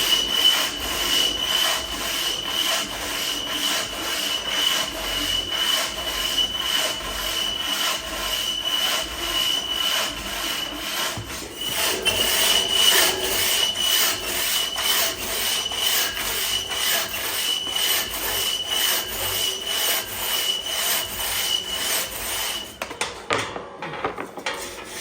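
A hand saw works steadily through a fresh log in a timber sports chopping practice, giving a continuous loud rasping stroke rhythm close by for the full length, with a slight change in tone midway and an abrupt stop near the end.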